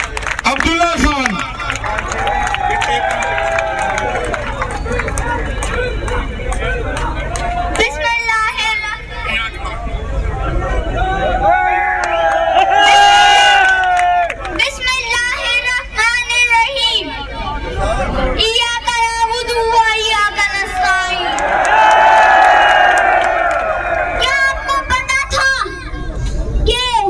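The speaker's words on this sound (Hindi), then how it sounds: "भरपूर तालियों में अब्दुल्ला खान।" A large protest crowd at Liberty Chowk, rallying against horse trading in the Punjab assembly, cheers and claps loudly and continuously, with shouting voices and babble throughout.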